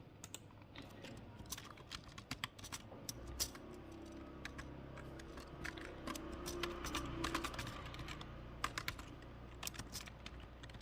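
Typing a Linux command at a computer keyboard in a server lab: a steady run of close, crisp key clicks at an uneven rhythm over a low background hum, with no talk.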